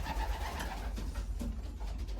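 Racing pigeons coo softly in a loft, with low, steady murmuring calls repeating under a constant background rumble and no talk.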